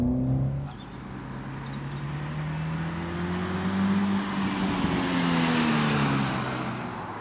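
A four-cylinder Toyota GR Supra engine drones steadily at speed on a racetrack, its pitch rising and falling as it accelerates and eases off, loud and continuous with no voices.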